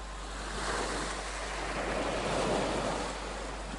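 Waves on the Aegean Sea wash in a steady, rushing surf with some wind, a continuous broad roar that swells slightly and then eases, with no voices.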